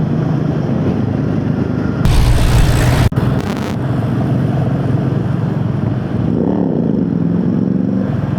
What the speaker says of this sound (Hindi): आप देखोगे तो 2-3 बंदे बाइक पे जा रहे हैं।